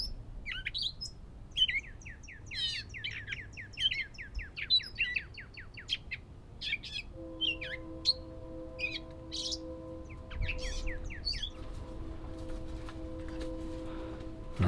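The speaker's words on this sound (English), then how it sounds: "Listen to the birds." Several birds chirp and twitter close by in an overgrown back yard, with quick tweeting phrases and trills over a quiet outdoor background, and a steady low tone joins partway through.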